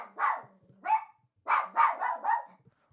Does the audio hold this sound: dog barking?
yes